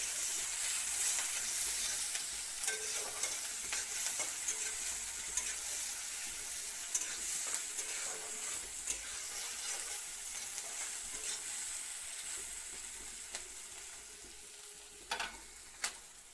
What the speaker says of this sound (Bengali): পেঁয়াজটা একটু ভালো করে ভাজা করতে লাগবো